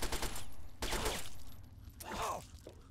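Gunfire in the Fallout 3 video game, three loud bursts of automatic fire with ringing, metallic tails under a busy game soundscape, no talk.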